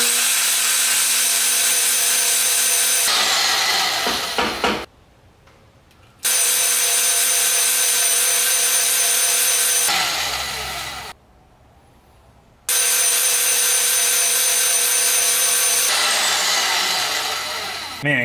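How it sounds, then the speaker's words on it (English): A bandsaw cutting metal for a welding cart runs in three long, loud, steady passes of grinding, whirring noise, each stopping abruptly and separated by short near-silent gaps. "cutting with the bandsaw is so much better"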